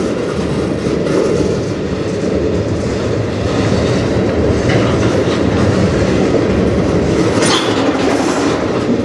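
A slow, long CN freight train rolls past on the Strathroy Subdivision, its wheels clattering loudly and continuously at close range, with occasional squeals and no voices.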